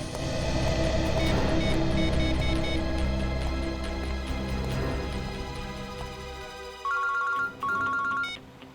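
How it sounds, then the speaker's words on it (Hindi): An electronic phone ringtone plays loudly over a humming background, ending with a few repeated beeping rings. "हाँ चित्रोले सर, कहिए क्यों फोन किया आप?"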